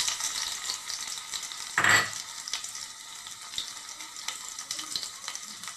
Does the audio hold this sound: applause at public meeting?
no